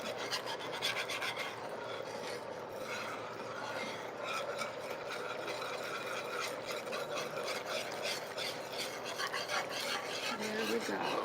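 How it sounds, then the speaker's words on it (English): Gravy is whisked in a cup with a continuous scraping, rasping stir that keeps a rapid rhythm, close and moderately quiet, with faint kitchen noise behind it. "Whisking it up."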